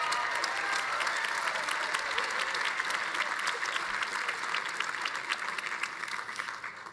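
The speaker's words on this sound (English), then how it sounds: "let's give a round of applause for that" Audience applause at a university commencement ceremony, a broad, sustained wash of many hands clapping with some crowd noise mixed in, steady and even throughout.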